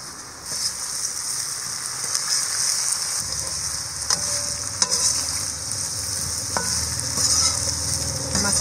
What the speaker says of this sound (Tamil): மசாலாவும் சேர்த்ததுக்கு அப்புறமா நல்லாவே மிக்ஸ் பண்ணி விட்டுட்டோம்